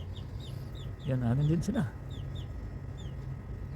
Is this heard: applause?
no